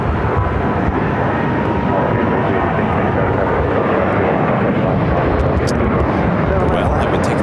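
A jet airliner takes off at Phoenix Sky Harbor airport with a loud, steady broadband engine roar that stays strong for the whole stretch. Radio chatter and talk can be heard underneath it.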